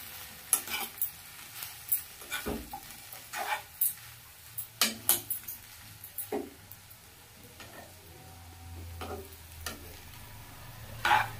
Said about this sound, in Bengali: চামচের সাহায্যে আমি এভাবে সুন্দর করে চাউমিনটাকে নাড়িয়ে দেব।